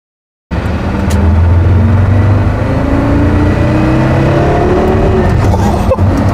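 A Porsche Carrera GT supercar's engine pulls loud and close from inside the cabin at about quarter throttle, its pitch climbing steadily in a continuous drone with a brief dip near the end.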